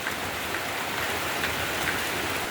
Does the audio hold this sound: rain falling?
yes